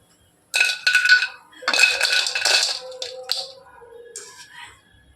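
Fried nimki strained out of hot oil with a metal spoon, giving bright scraping clinks and rattles against the pan in close, busy bursts that fade toward the end.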